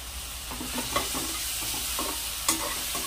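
Tomatoes with ginger garlic paste sizzle in a pan, a steady soft frying hiss broken by occasional scrapes and clinks as the mixture is stirred, fairly quiet and close.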